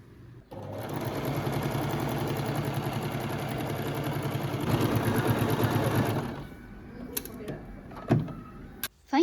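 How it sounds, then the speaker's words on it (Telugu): A home sewing machine stitching palazzo pants runs steadily and close for about six seconds in a rapid motor whir, then stops, leaving a few handling clicks and bumps. "ఫైనల్గా ప్లాజో ప్యాంట్ కుట్టేసుకున్నాను."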